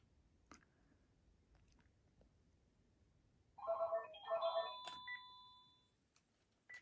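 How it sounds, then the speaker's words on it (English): A Panasonic KX-PRS120 cordless phone plays its mesh alert ring, a short burst of bright electronic tones and warbles that is close and moderately loud, preceded by quiet room noise and a few faint clicks. "Now it's going to immediately do the new mesh alert call, and then I'm going to answer it and hang up on this other phone when it rings."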